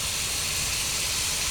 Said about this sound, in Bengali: আমি সরিষার তেল দিয়ে পটলটাকে ভেজে নেব ভালো করে